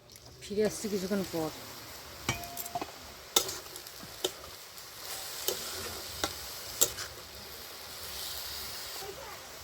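Red amaranth greens cooking in a pan with no spices or water, stirred with a utensil: soft sizzling under a scatter of sharp scraping clicks and taps, close and fairly quiet.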